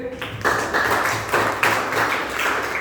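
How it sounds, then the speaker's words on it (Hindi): Students in a school class clap for a classmate, a short burst of uneven hand claps in a small room, rising in a few louder waves over under three seconds. "ताली बजाइए उनके लिए"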